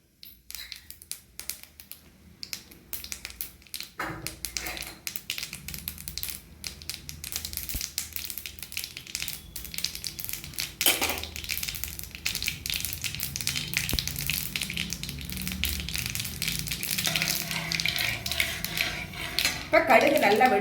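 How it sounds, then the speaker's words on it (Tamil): Mustard seeds splutter and crackle in hot oil in a pan while rava pongal is cooked, giving scattered sharp pops that build over time, with a voice talking over them. "இப்போ கடுகு நல்லா வெடிச்சிருச்சு."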